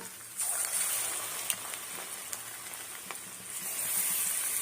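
Sweet paniyaram batter sizzles and fries in a pan, a steady close crackling hiss with small pops throughout.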